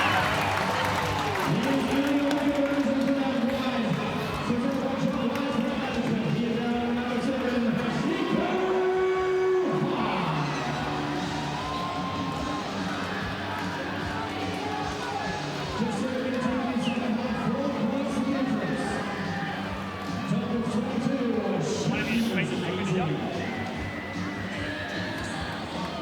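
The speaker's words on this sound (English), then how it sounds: "The crowd have come alive." Big stadium crowd at an NRL rugby league match between the Sharks and Dolphins, a sustained loud roar of cheering and applause with chanting swells, continuing under the play for the whole stretch.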